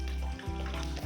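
Sardines sizzle and crackle in hot oil in a wok, a steady close frying hiss with a faint hum underneath.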